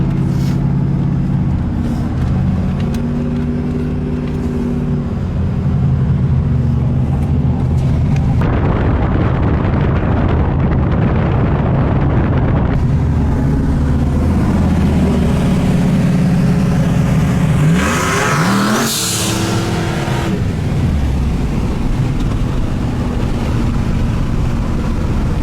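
Joe Gibbs Silverado truck revving hard on a street, a loud continuous engine roar with tire-smoking burnout noise building, then a brief swooping surge near the end before it settles into a steady rumble.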